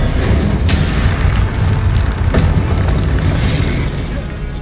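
An Expelliarmus disarming spell is cast in Hogwarts Legacy amid a loud, continuous rumbling battle din, with sharp magical cracks near 0.7 and 2.4 seconds cutting through the low roar.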